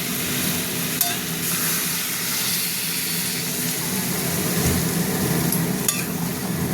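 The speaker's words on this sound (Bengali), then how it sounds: "জল দিয়ে দিলাম, একদম গ্যাসটা কমিয়ে, একদম কমিয়ে দেবো" Water poured into a pan of frying potato, pointed gourd and pumpkin curry raises a loud, continuous hiss and bubbling steam that stays steady throughout, close up with no talking.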